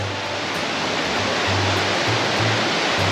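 A swollen, fast-flowing forest creek rushes loudly and steadily, a dense close roar of water with no voices.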